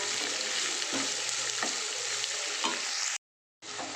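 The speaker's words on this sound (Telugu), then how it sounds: "ఆనియన్ బ్రౌన్ కలర్ వచ్చేంత వరకు వేయించుకోవాలి." Onions, green chillies and curry leaves fry in a pan with a steady, close sizzle and a few soft stirring knocks, cutting out briefly near the end before the frying returns.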